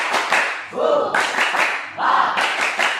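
A class claps the rhythmic tepuk semangat pattern in bursts of quick claps with short pauses between them, close and loud, with children's voices chanting along.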